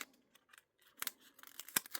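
Paper cut with scissors for a journal spread, as a few quick close snips and crisp crunching cuts, quiet and alone.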